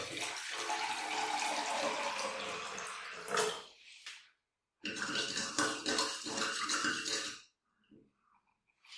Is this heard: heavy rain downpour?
no